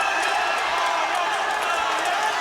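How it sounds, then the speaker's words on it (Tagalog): Boxing match crowd roars and cheers in a sustained, dense wash of noise, loud and unbroken, with scattered shouts rising out of the din. "Listen to the crowd reacting to every shots fired by both"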